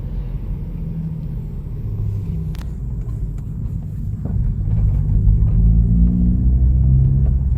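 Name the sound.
car with muffler delete cruising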